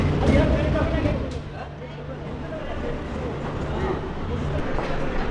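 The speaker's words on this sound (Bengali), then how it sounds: "মেট্রো এসে দাঁড়িয়েছে দেখুন" A Kolkata metro train pulls into the newly opened Jessore Road station on its first day, a steady low rumble with hum lasting throughout, close and fairly loud beneath a busy platform crowd's background chatter.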